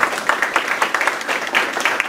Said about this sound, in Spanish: Para finalizar, pido fuertes palmas para todos ustedes.